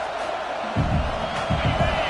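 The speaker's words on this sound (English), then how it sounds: "The roar of the crowd trying to fuel this defense to keep them pinned in their own end" Crowd at a football game roaring under a commentator's voice, a broad, swelling din that rises noticeably partway through.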